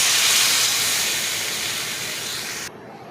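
Water poured into a hot pan of spiced potatoes hisses and sizzles loudly as steam bursts up, the broad hiss fading slightly before cutting off abruptly near the end.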